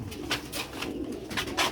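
A rooftop pigeon coos in soft repeated bursts, the low rounded calls rising and falling several times close by with no talk over them.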